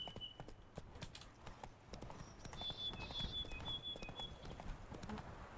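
Horse hooves clip-clop at a steady gallop in The Witcher 3, the rhythmic thuds loud and close throughout, with a faint whistling tone layered over them partway through.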